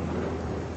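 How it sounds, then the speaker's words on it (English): Steady rain with a low rumble of thunder falling over the African bush, a dense continuous wash of noise at even loudness with no voices. "Rain is a welcome relief, but Mike is struggling to collect it"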